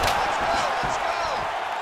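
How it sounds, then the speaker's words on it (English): A dense fight crowd at a UFC event roaring steadily as strikes are traded, a continuous loud wash of arena noise with a commentator's voice over it. "you hear the crowd react every time they come together"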